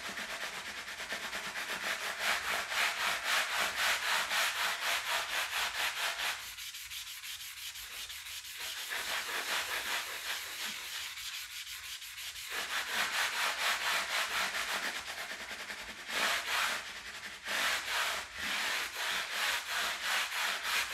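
An abrasive pad rubs slowly and lightly along guitar frets, making continuous soft back-and-forth scraping strokes with brief pauses between passes.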